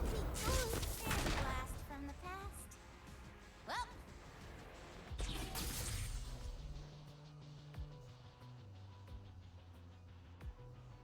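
Jinx's rockets firing in the card game Legends of Runeterra: loud, crackling bursts in the first seconds and again around the middle, fading into softer game chimes and clicks.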